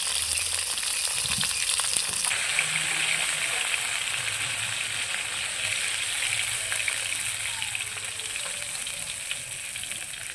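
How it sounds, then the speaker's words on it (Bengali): Pieces of chitol fish fry in hot oil in a kadai, a steady close hiss and crackle of sizzling that fills the whole stretch on its own, with faint occasional clinks. "বাকি মাছগুলোকে উল্টে পাল্টে ভেজে নিলাম এখন তুলে নেব"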